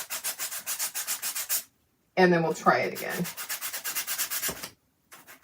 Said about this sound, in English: So I'm just sanding over my trash can.